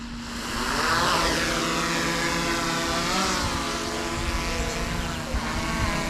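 A DJI Mavic 3 drone lifts off close by, its propellers spinning up into a loud, steady high-pitched buzz whose pitch wavers and shifts as it climbs and hovers.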